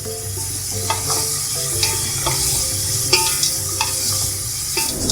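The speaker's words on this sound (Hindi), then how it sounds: "अब हमने इसको भी 1 मिनट तक इसको फ्राई किया है हमने, ताकि ये मसाले अच्छी तरह इसमें मिक्स हो जाएं" Mutton with hand-crushed browned onions and spices frying and being stirred in a pot, a steady sizzle broken by occasional scraping clicks of the spoon.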